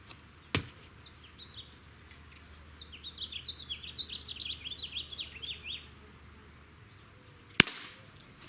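A cheap airgun under fifty dollars fires twice in a quiet backyard, each shot a single sharp crack several seconds apart, with birds chirping softly in the background between them.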